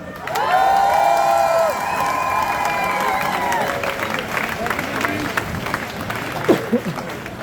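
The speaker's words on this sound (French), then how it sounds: "applaudissez pour Muriel Favre-Torello." A crowd at an outdoor Pride rally applauds and cheers loudly, with whoops and sustained clapping filling the space, while a loud whistle-like tone rings over the start and the noise gradually thins toward the end.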